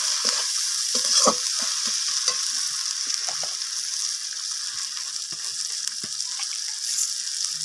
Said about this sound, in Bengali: আদা বাটাটা দিয়ে দেব এবার আচ্ছা তো সমস্ত কিছু এইভাবে নাড়াচাড়া করে কষিয়ে নিতে হবে